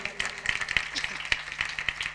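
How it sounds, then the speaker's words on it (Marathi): Audience at a kirtan clapping in a steady rhythm of sharp, fairly close claps, with a voice and music running underneath. "मंडळीसाठी गुणजन मंडळीसाठी टाळी वाजवा."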